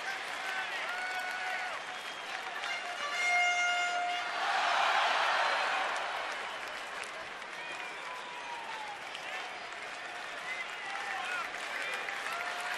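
Baseball crowd at a Marlins at Nationals game applauding and cheering, a broad wash of clapping swelling in the middle and fading, with distant horns mixed in.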